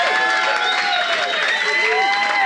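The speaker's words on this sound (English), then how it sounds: "Give her a round of applause." A live comedy audience claps and cheers at a close, steady level throughout, with mixed voices calling out over the applause.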